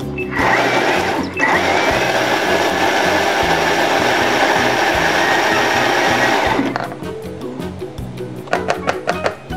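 A kitchen blender grinds onion soup ingredients for about six seconds, a loud steady whirring roar, then cuts off into short knocks and rattles of the jar and lid.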